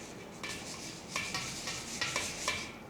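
Sago pearls rinsed in clean water in a strainer, a continuous watery swishing and splashing with repeated rhythmic shakes, close and moderately quiet.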